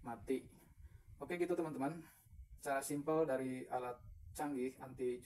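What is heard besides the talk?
No everyday noises stand out.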